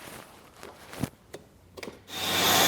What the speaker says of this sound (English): So what George is cutting is the actual knife